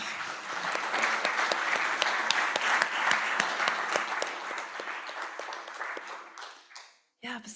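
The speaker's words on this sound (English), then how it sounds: "let's give another round of applause to our participants." Participants at an enterprise fair receive a warm round of applause from the audience, many hands clapping steadily for several seconds before it thins out and stops, followed by a brief faint sound at the very end.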